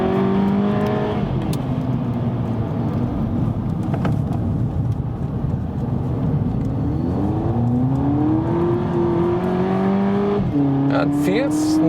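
A car driven hard with stability control switched on, engine roaring and revving continuously up close while tires squeal in rising and falling tones through much of the run.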